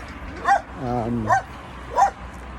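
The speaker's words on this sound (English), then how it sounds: "dogs barking" Dogs barking at a home in Portugal: three short, loud barks spaced about evenly apart, with a drawn-out whine or yip between the first two, over quiet background noise.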